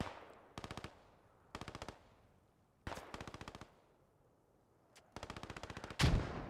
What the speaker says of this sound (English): That machine gun has been ordered to fire upon.